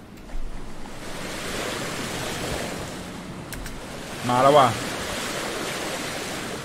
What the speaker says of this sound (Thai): นี่ครับท่ามกลางท้องทะเลที่เต็มไปด้วยคลื่นลมแรงครับ